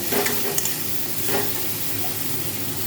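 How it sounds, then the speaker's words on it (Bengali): Cut potatoes frying with spices and tomatoes in a pan over a lowered gas flame, giving a continuous close sizzle with a few brief scraping stirs near the start and middle, no talk. "এবার দিয়ে দেবো এর মধ্যে কেটে রাখা আলুটা আলুটা দিয়ে এটা আরও দু থেকে তিন মিনিট"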